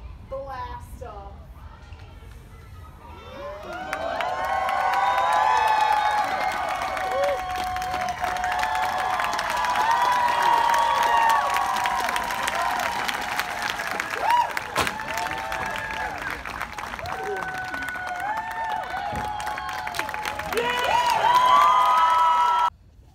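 A festival audience at a stunt show finale cheers, whoops and applauds loudly in a sustained wave, after a brief announcer's voice at the start.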